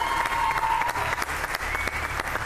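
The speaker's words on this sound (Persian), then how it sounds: "تشویقشون" Studio audience applauding during a pantomime game show, a steady dense wash of clapping with scattered sharper claps, loud and continuous from start to finish.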